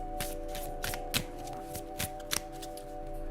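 A deck of cards being bridge-shuffled, with a crisp run of riffling flicks followed by soft taps as the cards settle, close by against a low steady hum.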